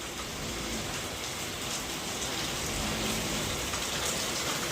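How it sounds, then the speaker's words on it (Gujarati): Heavy rain pours steadily in Bhavnagar, a dense, loud hiss of drops drumming on surfaces without pause. "જોરદાર વરસાદ આવે છે ને વીજળી પણ જોરદાર થાય છે"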